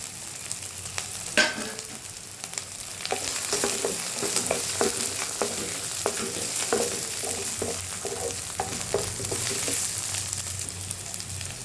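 Minapa vadiyalu, urad dal fritters for a drumstick curry, frying in hot oil in a pan, a loud continuous sizzle with scattered stirring clicks and scrapes, close and without talk.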